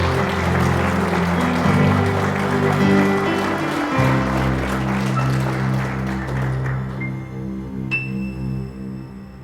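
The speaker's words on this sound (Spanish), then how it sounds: "Aplauda al Señor." Congregation applauding during a church sermon, a broad sustained patter of clapping over a droning musical background, thinning out toward the end as a sustained tone remains.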